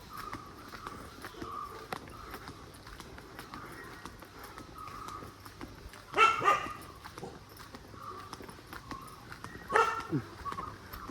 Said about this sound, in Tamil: நாய்லாம் இருக்குங்க, பார்த்து தான் வரணும்.